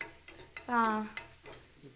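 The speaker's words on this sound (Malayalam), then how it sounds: "അപ്പൊ നമ്മളിങ്ങനെ ഉള്ളി ഇങ്ങനെ വഴറ്റിക്കൊണ്ടിരിക്കുകയാണ്" Onions sizzle and hiss in a hot pan while being stirred, with light scraping and tapping from the spoon.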